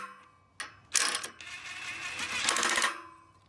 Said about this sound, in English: So I will tighten up these bolts.